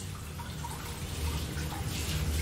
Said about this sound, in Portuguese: Você já vai sentir a diferença lavando com água corrente.